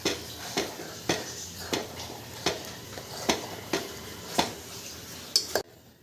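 Jaggery payesh stirred in a pot, a spoon scraping and knocking against the pot in a steady rhythm of about ten strokes, close and clear, ending abruptly.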